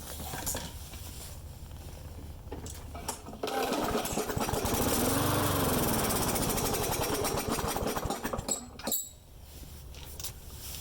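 A small lawn mower engine with a vacuum leak sputters to life and roars loudly for several seconds, then cuts out abruptly, leaving quieter background noise.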